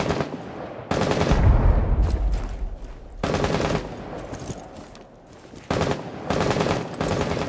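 Automatic gunfire from the video game Rainbow Six Siege rattles out in several loud, sustained bursts separated by short pauses.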